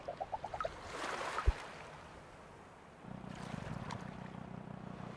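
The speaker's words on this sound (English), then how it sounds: "The sounds of water, birds, and the occasional splash of a fish add to the realism" Gentle water and waves from the fishing video game Creatures of the Deep: a soft wash with a short run of bright plinks and a splash, then a steadier lapping swell joins in.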